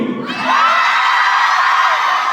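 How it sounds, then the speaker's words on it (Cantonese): A crowd of fans screams and cheers together at a fan event, a loud, sustained burst of high shrieks that swells after a brief murmur and holds steady to the end. "邊個想睇謝慧先變身嘅朋友請尖叫！"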